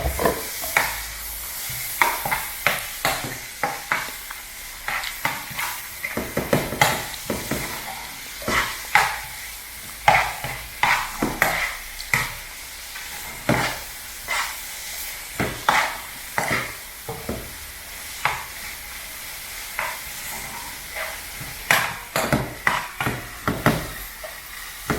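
Saltfish frying and being stirred in a pot for a Jamaican dish, with a steady sizzle under repeated sharp scrapes and clinks of the spoon against the pot at an irregular, busy rhythm.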